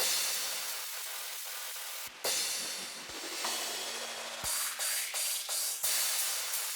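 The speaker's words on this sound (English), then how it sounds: "Bunch of crashes and downlifters." Crash cymbal hits and sweeping downlifter effects layered in a melodic drum and bass drop, with noisy washes, a falling sweep and sharp repeated crash accents over steady full-band sound.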